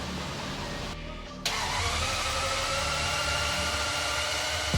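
A BMW E31 850i is cranked and fires up, the starter whirring briefly before the engine catches with a sudden roar and settles into a steady, loud idle nearby.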